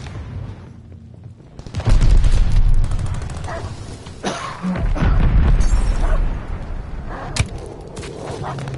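A bomb explosion in a video game, a loud sustained blast and rumble that swells, eases, then surges again with scattered pops and cracks mixed in.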